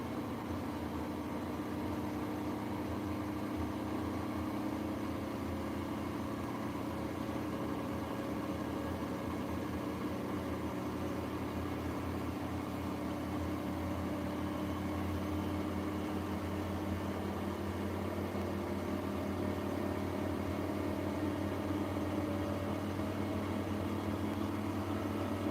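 Siemens washing machine spinning at 1200 RPM during a cottons 60 wash, a steady low mechanical drone with a constant hum and whir, even and unbroken for the whole stretch.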